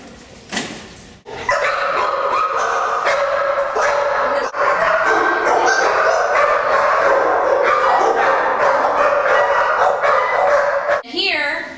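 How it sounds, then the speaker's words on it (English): Many dogs bark and yip loudly and continuously in kennels, a dense overlapping chorus filling an echoing space, with a few quieter moments at the start and end. "Right in here is the dog kennels. Not really going to be able to speak because it's going to be loud"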